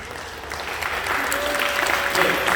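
Congregation clapping in a church service as mission teams stand to be recognised, a broad continuous patter that builds slightly louder toward the end, with some voice underneath.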